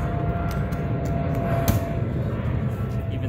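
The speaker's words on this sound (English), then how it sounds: "that's a plane going on right there in the background" A plane passes in the background as a steady, fairly loud broadband drone with a faint low hum, heard outdoors at home during transmission cleaning for a D16Y8 engine swap.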